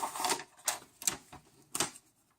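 A Cynergyhome gift wrap cutter slices across wrapping paper in five short, sharp, raspy strokes, close and fairly loud, with quiet pauses between them and no talking.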